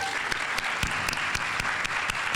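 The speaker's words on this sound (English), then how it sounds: "Let's give them a round of applause." Steady audience applause at an educators awards ceremony after a high school orchestra ensemble performs, moderately distant and even, with a few sharper individual claps standing out.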